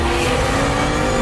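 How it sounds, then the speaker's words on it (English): A Lamborghini Huracan STO super sports car lets out a loud, continuous engine roar, dense and close, sustained without a break and with no voices. "based on the progressive roar of the engine"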